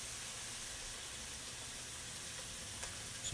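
Cooked button mushrooms sizzle in a hot pan, a dense, even frying hiss held close and steady throughout, with a faint clink near the end.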